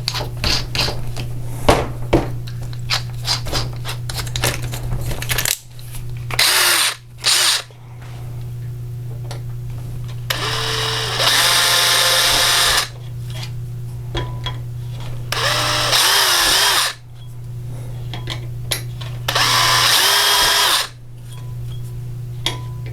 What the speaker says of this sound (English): With this plastic, it's actually more effective to drill slowly.